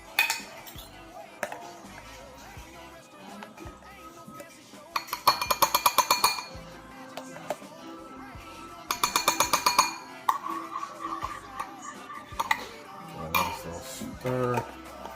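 Olive oil and minced garlic stirred in a bowl with a metal utensil: quick bursts of rhythmic clinking and scraping against the bowl, two louder runs of rapid clatter, with quieter handling sounds in between.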